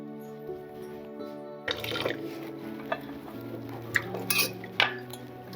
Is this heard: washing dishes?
yes